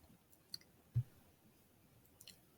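A mouse click on an on-screen button during a software tutorial, heard as a couple of faint, quiet clicks, one a little stronger, spread through a near-silent stretch with no talking.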